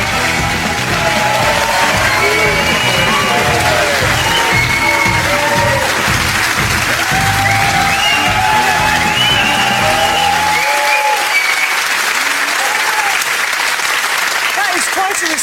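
Studio audience applauding and cheering as footballer Steven Gerrard is welcomed onto a TV show, a loud, dense wall of clapping with whoops that holds for about ten seconds before a voice takes over over the fading applause.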